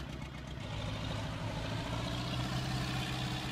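Vintage tractor with a 45-horsepower engine in Farming Simulator 19, a low steady idling chug with a soft even rumble heard alone throughout.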